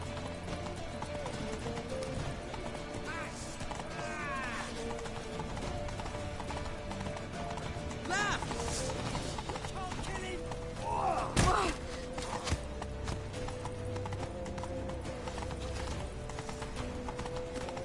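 Horse hooves galloping in The Witcher 3 video game, a quick steady clip-clop drumming through a rumbling game soundscape, with occasional thuds and a brief swell near the middle.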